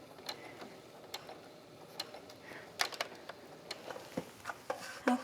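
A sewing machine stitches trim onto a garment collar at a regular stitch length, giving quiet, uneven mechanical clicking and ticking with intermittent sharper taps, fairly faint and with no talking.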